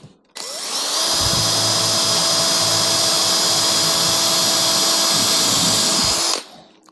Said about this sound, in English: Let's see how well it drills.